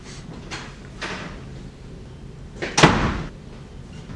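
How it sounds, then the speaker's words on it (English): A car door slams once, a sharp close thud following a few softer knocks and shuffles. "I know that iconic door slam anywhere"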